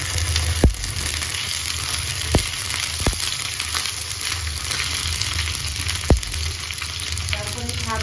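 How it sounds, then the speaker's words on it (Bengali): Ginger-garlic paste and cumin paste fry in hot oil for a turmeric curry, giving a dense, continuous sizzle close up, broken by a few sharp clicks of a utensil against the pan. "আমি একটু আদা রসুন বাটা একসাথেই এটা দিয়ে দিলাম। তারপরে একটু জিরা বাটা দিয়ে দিলাম।"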